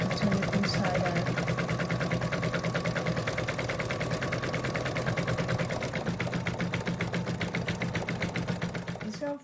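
An embroidery machine stitches the lining of an in-the-hoop purse, running a fast, even mechanical rattle of needle strokes that continues steadily to an abrupt stop, with a voice faintly underneath.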